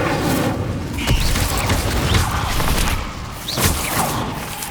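In Hogwarts Legacy on PS5, the Incendio fire spell blasts with dense roaring crackle and a series of heavy whooshing impacts, loud and continuous with no voices.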